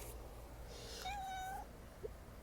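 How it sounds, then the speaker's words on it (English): A single close, clear meow from a cat, rising then holding for about half a second against a quiet room background, followed by a faint short sound. "There's a cat."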